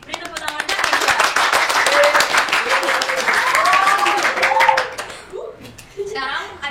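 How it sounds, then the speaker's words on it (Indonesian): A school audience applauds a student for a correct quiz answer, a dense burst of close, loud clapping with children's voices and calls mixed in, lasting several seconds before tapering off, then a brief voice. "Beri tepuk tangan untuk Keisha."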